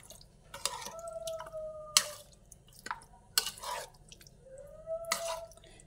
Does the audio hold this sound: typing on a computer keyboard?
no